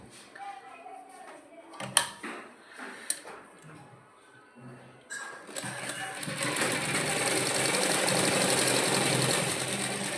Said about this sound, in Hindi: अब इसमें हम सिलाई चला देंगे।